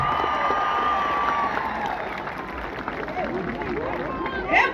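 Concert audience at a show in Qashqadaryo applauding loudly and steadily, a dense wash of clapping and crowd noise that swells again briefly at the end.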